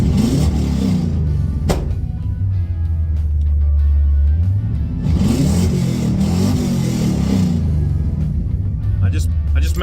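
A 1977 Avanti's small-block Chevy V8 idles with a deep, steady rumble and is revved up twice, close and loud, while someone talks briefly.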